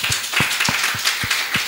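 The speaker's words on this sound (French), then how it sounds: "Ça s'applaudit" Applause from an audience at a daycare center presentation, a steady wash of many hands clapping with rhythmic low thumps throughout, fairly loud and continuous without talk.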